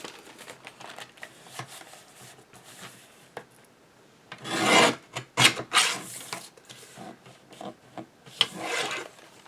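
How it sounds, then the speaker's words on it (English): Scissors trimming the edges of a junk mail paper envelope, soft snipping and rasping paper rubs close by, with a louder burst of crinkling and cutting midway and again near the end. "So I will trim the edges of the envelope."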